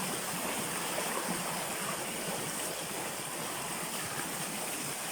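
A strong river swollen after overnight rain rushes past, a loud, steady broadband roar of flowing water without a break.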